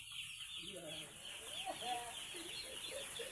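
Young chicks cheeping in a farmyard, a soft scatter of small high peeps under steady background noise, with brief chatter and a person talking nearby.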